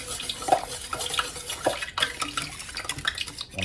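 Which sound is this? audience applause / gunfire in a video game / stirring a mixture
stirring a mixture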